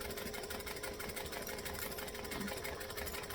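A domestic sewing machine stitches fabric at a slow, steady pace, making a continuous rapid mechanical chatter that stays at an even, moderate loudness from start to finish.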